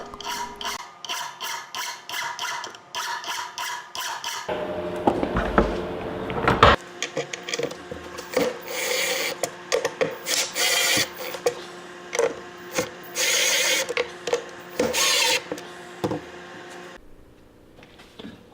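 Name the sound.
metal file filing down screws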